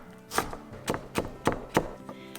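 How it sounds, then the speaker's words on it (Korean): A knife finely chopping strips of red bell pepper on a cutting board for turmeric vegetable fried rice: five or six crisp, close chops in an uneven rhythm, about two per second, with quiet gaps between. "홍피망도 채를 썰어서 잘게 잘라주세요."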